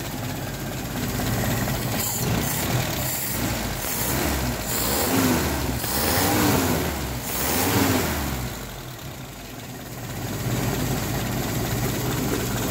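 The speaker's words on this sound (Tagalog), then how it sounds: "Pinapainit natin ng makina." A freshly overhauled Toyota 3A-U engine runs close by while warming up, idling with a rough low rumble and a few gentle revs that swell and settle back down.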